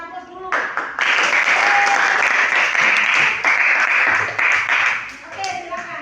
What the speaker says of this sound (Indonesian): mari kita sama-sama berikan aplaus dulu